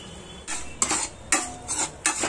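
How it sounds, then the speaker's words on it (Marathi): A spoon scrapes and clinks against a pan while crushed cashew paste is stirred into a paneer gravy, with several short metallic strokes at an uneven rhythm, close and fairly quiet. "काजूचं क्रश आहे ते टाकायचं आता त्याच्यामध्ये."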